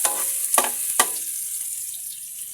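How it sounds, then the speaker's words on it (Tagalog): Onions hiss and sizzle as they are added to a hot pan, with a steady high frying crackle and a few short bursts of spatter and stirring, close and loud, with no talking. "Ilagay na rin natin yung sibuyas natin."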